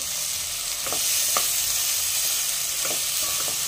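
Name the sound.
chopped tomato sautéing in a pan with onions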